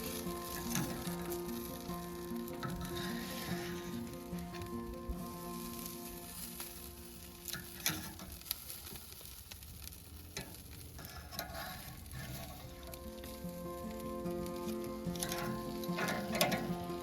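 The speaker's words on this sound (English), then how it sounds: "Place the skewers on the grill and flip them every 20 to 30 seconds to prevent burning." Beef skewers wrapped in betel leaves sizzling over medium heat on a grill: a continuous crackling, popping sizzle with occasional sharp ticks and clatters as the skewers are turned, close and fairly quiet, with no talking.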